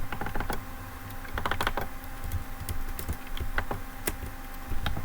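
Rapid computer keyboard typing with scattered key presses and mouse clicks while working in Unreal Engine 4, close and fairly steady, with no talking.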